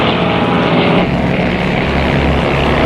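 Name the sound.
fighter planes flying in formation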